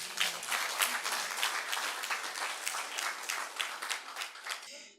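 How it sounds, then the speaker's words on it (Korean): A congregation at an evening mountain prayer meeting bursts into sustained applause, many hands clapping densely and steadily for several seconds before it cuts off. "하나님께 우리 박수로 영광을 올려서"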